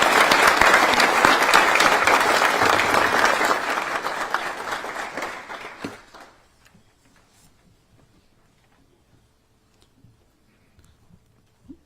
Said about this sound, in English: please join us in a round of applause for all of our distinguished guests